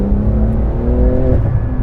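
A 2018 Porsche 911 GT2 RS accelerating hard, its engine note climbing in pitch over about a second before easing as it shifts, loud and close with a rough exhaust rumble.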